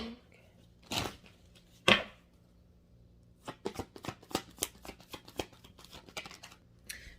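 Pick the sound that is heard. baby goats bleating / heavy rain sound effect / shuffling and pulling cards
shuffling and pulling cards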